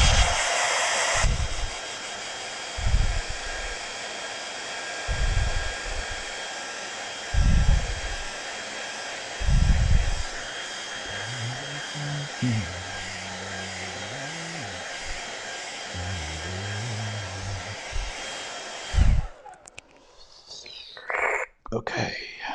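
A hair dryer blows over a watercolour street-scene painting, a steady broadband whoosh that runs for about nineteen seconds with a few low murmurs of talk underneath, then shuts off, followed by brief handling noises.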